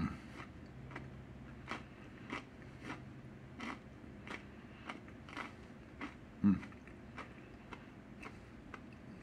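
Quiet, crisp crunches repeat at a slow steady pace as someone bites and chews crunchy rustic beer bread crust with raspberry jam up close.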